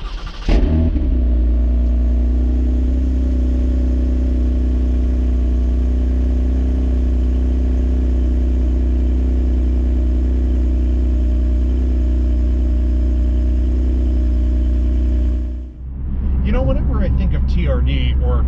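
A 2022 Toyota Camry TRD accelerating hard, its engine a loud, steady drone heard from inside the car that holds for about fifteen seconds before easing off.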